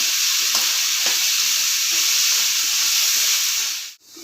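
Onions sautéing in a hot pan for egg kurma give a loud, steady sizzle and hiss that runs unbroken for several seconds before cutting off abruptly.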